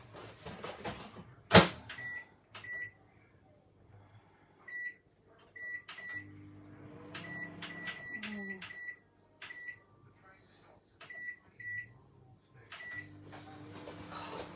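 Microwave oven operating in a kitchen: a low steady hum runs beneath repeated electronic beeps and a sharp clunk near the start, with bursts of talking scattered throughout.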